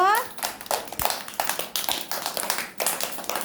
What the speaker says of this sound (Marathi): ध्रुवासाठी टाळ्या वाजवा ग.